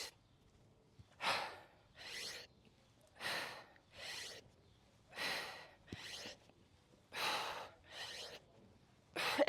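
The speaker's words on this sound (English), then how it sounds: "Deep breath in." Heavy rhythmic breathing during a home push-up workout: about eight strong, evenly spaced breaths, close and clear, with no talking.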